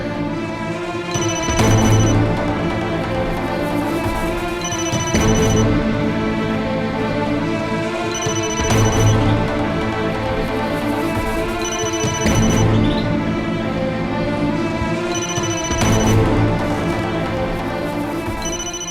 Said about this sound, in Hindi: उसका फोन बज रहा है।